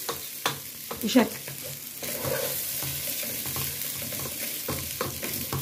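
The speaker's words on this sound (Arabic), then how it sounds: "ريحه الشعريه وهي بتتحمر" Vermicelli toasting in a pan for rice sizzles steadily while a utensil scrapes and stirs it in sharp clatters early on, then a constant frying hiss, with a brief spoken word at the start.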